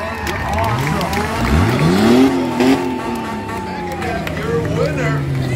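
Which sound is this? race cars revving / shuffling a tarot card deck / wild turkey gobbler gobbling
race cars revving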